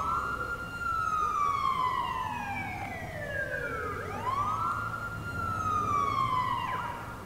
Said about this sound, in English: So it does come in a police variant with a siren